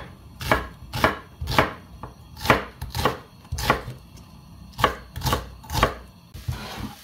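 A chef's knife chops steadily on a cutting board, about a dozen sharp, evenly spaced strikes close by, each with a crisp thud.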